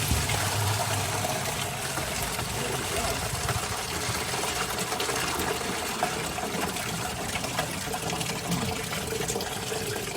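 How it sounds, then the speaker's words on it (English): Old coolant drains from a Ford F250 6.0 into a bucket, a steady liquid pour and splatter that runs continuously over a low mechanical hum. "Draining it far down. It's all going in the bucket."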